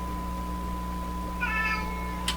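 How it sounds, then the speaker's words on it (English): A house cat gives a single short, clear meow close by, over a steady electrical hum from a large Sparton 1567 tube radio on the workbench, with a brief click just after. "I gotta go deal with the cat."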